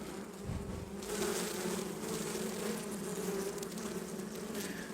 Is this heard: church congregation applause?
no